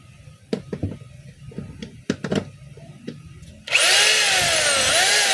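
A DeWalt D25032 rotary hammer set to drill mode, first handled with scattered clicks and knocks, then starting up into a loud, steady high-pitched motor whine that runs to the end, close by, with no talking.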